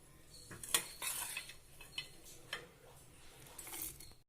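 Small items clatter and clink into a mixer jar while chutney ingredients are added in a home kitchen, a few sharp metallic taps and scrapes spread across a quiet background.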